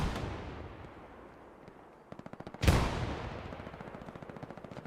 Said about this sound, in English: Steel City supporter on the MG. Taking out that squad.